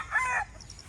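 A single short cluck from a chicken on a small farm, heard close and clear for a split second before fading into quiet background.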